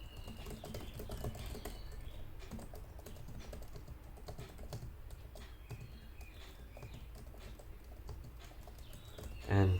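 Fingers type steadily on a Lenovo Legion 5 (2020) laptop keyboard, producing rapid, close, soft key clicks in an irregular rhythm with a brief louder bump at the end.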